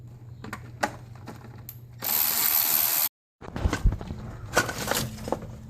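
Ratchet wrench backing out Torx T20 screws on a Vortec V8 intake manifold, a close, loud burst of rapid clicking that runs steadily for about a second, with shorter clicks and tool handling noise around it.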